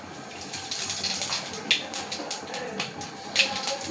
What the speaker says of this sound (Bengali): গোটা জিরে ফোড়ন দিলাম